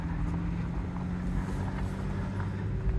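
An overland vehicle grinds up a mountain switchback in first gear, its engine giving a steady low drone with some wind rumble, loud and continuous throughout.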